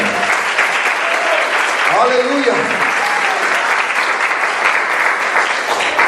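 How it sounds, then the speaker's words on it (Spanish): A church congregation claps in sustained, loud applause that fills the space, with voices calling out over it, including a single spoken exclamation. "Vamos, si le va a aplaudir, apláudele."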